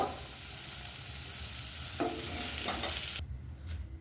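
Paneer pieces frying lightly in a pan give a steady close sizzle with a few stirring scrapes, then the sound drops away sharply near the end.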